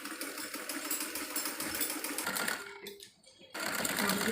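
A sewing machine stitches a half-inch seam joining salwar panels cut from warm winter fabric, running in a steady rapid whir that drops out briefly near the end before resuming at full pace.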